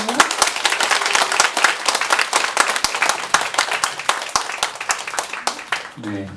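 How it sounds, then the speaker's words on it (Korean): Warm applause from a seated audience at a Catholic book concert, welcoming a priest, dense steady clapping throughout that thins near the end. "따뜻한 박수로 다시 한번 환영해주세요"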